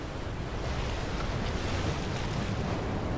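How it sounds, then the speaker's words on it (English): Ocean waves and strong wind around the Queen Mary ship in rough North Atlantic seas, a dense, continuous roar of surf and gusting air with no pauses. "The ship is crashing through 6-meter waves."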